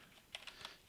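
A computer keyboard being typed on at a desk, a few quick, light key clicks in a short burst, close but very quiet with no talking.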